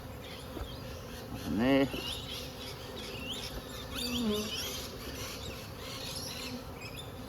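Bees buzz around an open beehive kept at home, a soft, steady hum with a faint voice speaking briefly.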